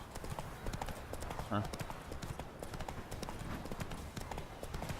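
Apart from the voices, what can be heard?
horse hooves clip-clop while riding Roach in Witcher 3 video game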